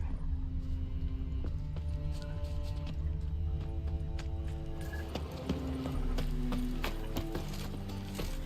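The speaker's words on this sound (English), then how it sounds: "Sneak into the stables." Horses move in the stables of The Witcher 3: Wild Hunt, with faint hoof clops, wooden knocks and clicks scattered over a steady low game ambience.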